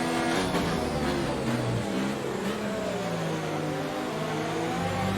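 A Formula 1 racing car engine in an Xbox F1 game screams as it accelerates through the gears at the Austrian circuit, a loud, continuous high-revving whine with rising pitch sweeps.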